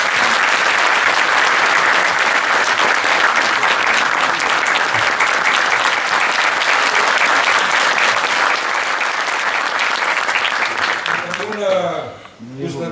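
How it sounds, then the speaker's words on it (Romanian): A crowd at a political party's mayoral candidate announcement applauds loudly and continuously for several seconds, the clapping fading out near the end. "domnului deputat Emil Bonț, pe care vă rog să-l aplaudați."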